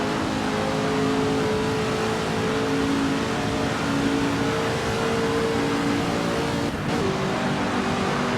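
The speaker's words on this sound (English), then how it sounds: "Another GT40 actually, different mod, but sounds a lot better" A steady, droning Ford GT40 race car engine in a racing video game hums continuously at an even pitch, with a brief dip near the end.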